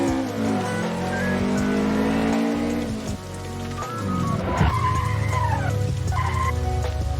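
A Toyota AE86 Trueno drifts on a mountain pass road, its engine droning steadily as the tires skid and squeal in long sweeping tones, loud and close throughout.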